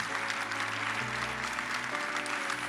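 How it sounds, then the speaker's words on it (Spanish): A church congregation applauds during a Spanish-language sermon, a faint, dense wash of clapping beneath sustained keyboard or organ notes. "Denle ese aplauso al Rey."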